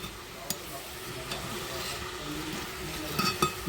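Cabbage sabzi is stirred in a pan over a steady, soft sizzle, with a few faint scraping clicks scattered through it and louder taps near the end.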